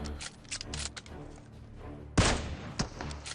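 Bolt-action Kar98 rifle fire in PUBG Mobile's Livik map: one loud, sharp shot bursts out near the middle, followed by a smaller crack, over a busy bed of game noise and faint voices.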